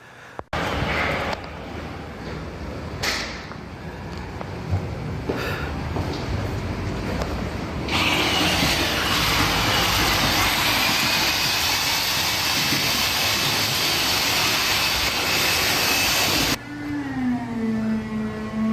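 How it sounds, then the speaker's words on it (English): A very loud vacuum cleaner runs during building renovation work, a steady broadband roar that starts after a few seconds of clattering, holds at high level for several seconds, then cuts off abruptly near the end. "That's the loudest vacuum I've ever heard."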